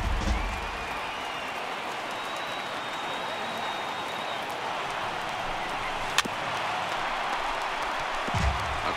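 A stadium crowd of nearly 50,000 in Arlington roars in a broad, steady wash of cheering and applause throughout, with a brief sharp crack partway through, during a Red Sox at Rangers game in the MLB The Show 18 baseball video game.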